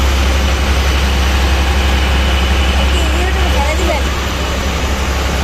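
Loud, steady diesel engine drone inside the engine room of the MV Bhola passenger launch, a deep continuous rumble with vibration that dips only slightly near the end, and a voice speaks briefly over it.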